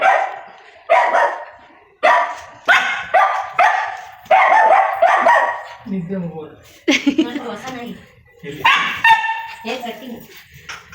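A dog barks repeatedly in sharp, loud bursts close by, with some yips and whimpers mixed in between the barks.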